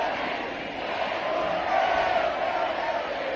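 A packed concert crowd at a show on a concert tour roars in a loud, continuous chant, a dense wall of voices swelling slightly midway and holding steady.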